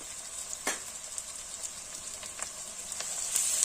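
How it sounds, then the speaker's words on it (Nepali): Chicken feet frying with cumin-coriander powder and turmeric in a pan, giving a steady faint sizzle with a few sharper crackles and spatters. "मजाले फ्राई गर्नुपर्छ"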